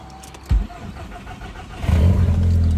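Audi RS4 petrol engine cranking and catching after a fuel pressure regulator valve change, with a brief starter burst, a short lull, then the engine firing into a loud steady idle up close.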